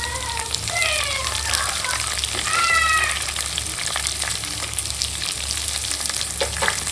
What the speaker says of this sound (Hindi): तो तेल डाली तो बघार डाली इसमें, और इसके अंदर प्याज डाली।